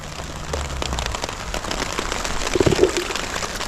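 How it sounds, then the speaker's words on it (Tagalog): Light rain growing heavier patters steadily on a surface, a soft continuous hiss with a few louder nearby drips toward the end. "Ulan yung, uh, lumalakas yung ambon."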